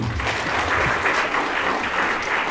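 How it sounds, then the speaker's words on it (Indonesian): Seminar audience at a vocational school gives a round of applause for a speaker, even continuous clapping from a hall full of people, moderately loud and unbroken. "Tepuk tangan sekali lagi."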